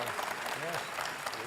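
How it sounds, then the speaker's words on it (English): An audience at a national convention closing session applauds the panel and moderator, a dense, steady roar of many hands clapping with a few voices murmuring faintly underneath. "Can we have one more round of applause for our panel and for the moderator, Will?"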